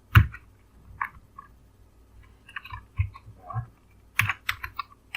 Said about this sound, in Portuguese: Agora eu vou escrever essa variável na posição 1.